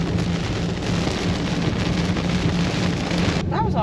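Steady, dense rain drums on a car while driving along a road in Northern Thailand, a loud continuous hiss that holds unbroken for nearly four seconds before easing slightly at the end.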